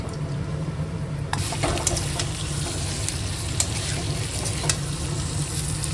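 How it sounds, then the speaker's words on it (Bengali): Lentil cakes (dhoka) fry in hot oil with a steady close sizzle, sharp pops and crackles breaking through at intervals over a low hum. "এই এইরকম হালকা করে ভেজে নিতে হবে প্রথমে এক পিঠ তারপরে আর এক পিঠ লাল করে ভেজে তুলতে হবে"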